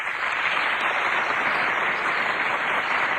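Applause for a character called the contract ghost, a steady wash of clapping from an audience, even and fairly loud throughout the short stretch, no voices over it.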